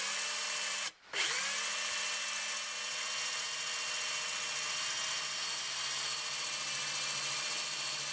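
A power drill whines steadily at high speed while drilling metal on a Toyota Hilux pickup, pausing once briefly before spinning back up and running continuously, close and loud.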